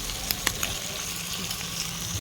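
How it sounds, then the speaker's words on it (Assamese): Meat frying and sizzling in a pan on a home stove, a steady close crackle with a few sharp pops and no talking. "এইফালে আকৌ মাংস ফ্ৰাই কৰি আছোঁ, মানে অলপ ভাজি লৈছোঁ"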